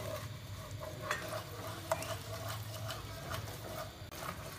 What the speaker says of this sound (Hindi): आपने हल्की आंच पर पहले इसको 2 से 3 मिनट के लिए बेसन को भून लेना है।